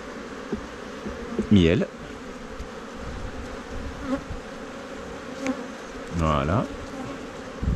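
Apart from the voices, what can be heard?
honeybees buzzing at apiary during honey harvest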